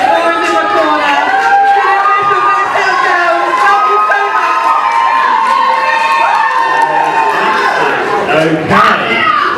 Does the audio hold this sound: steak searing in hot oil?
no